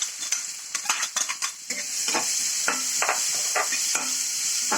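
Onion stir-frying in a pan for a microgreen stir-fry, with repeated sharp scrapes and clinks of a spoon against the pan over a rising, steady sizzle, close and without talk.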